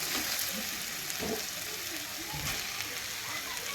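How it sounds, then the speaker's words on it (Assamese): Meat sizzling in a pan as it is stirred, a steady soft frying hiss with low scraping stir sounds and a louder knock at the end. "মাংসখিনি এতিয়া ইয়াত দি দিলোঁ। ধুনীয়াকৈ লৰাই দিছোঁ।"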